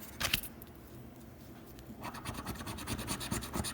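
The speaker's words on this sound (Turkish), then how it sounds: "3 tane kartı da kendim için kazımak istiyorum müsaadenizle." A coin scraping over a scratch-off card, one quick rasp then a steady run of rapid, close scratching strokes, no talking.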